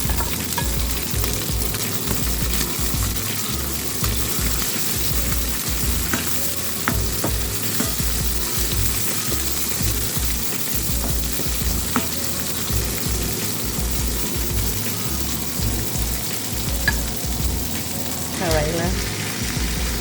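Onion, green onion and seasoning pepper fry in a pan for a karela and shrimp meal, giving a loud continuous sizzle broken by repeated stirring scrapes and taps, and no one speaks.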